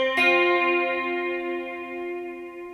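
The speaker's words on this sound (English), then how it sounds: "I've got quite a lot of reverb and a little bit of delay" A single electric guitar chord is struck and left ringing, shimmering with chorus, a little delay and long reverb as it slowly decays.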